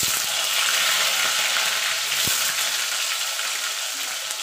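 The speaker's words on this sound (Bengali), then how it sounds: "আলুটা একটু লাল লাল করে ভেজে নেব।" Potatoes fry in hot oil in a wok after whole cumin seeds and bay leaves, giving a steady, dense sizzle that stays close and even throughout, with a brief clatter midway and no talking.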